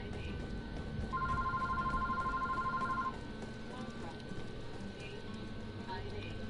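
A telephone rings in the Greedfall video game as a steady electronic tone lasting about two seconds, set against game ambience and talk.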